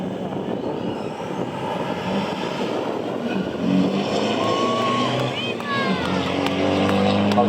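A Nissan Navara with its DPF removed roars down a drag strip at a King of the Strip event, its engine and exhaust forming a broad, loud rumble under an announcer's commentary.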